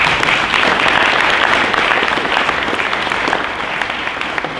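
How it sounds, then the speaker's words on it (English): An audience in a lecture hall gives a sustained round of applause, a dense, even wash of clapping from many hands that holds steady and fades slightly toward the end. "Round of applause for Roman."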